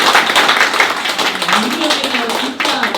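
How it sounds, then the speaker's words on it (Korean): Congregation applause at a women's mission dedication service in a church, a dense burst of clapping that fades slightly, with a voice emerging faintly underneath toward the end. "다시 한번 큰 박수 부탁드리겠습니다."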